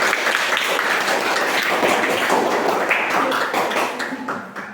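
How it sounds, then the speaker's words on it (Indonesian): Classroom applause as students clap for presenting group five, a dense burst of many hands that thins and fades toward the end. "Tepuk tangan sekali lagi."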